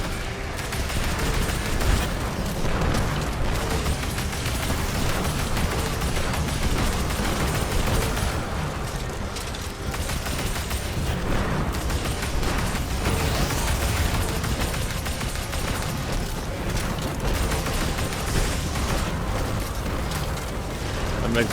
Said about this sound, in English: That Dex missile cluster is ripping through everything.